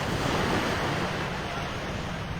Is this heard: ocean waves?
yes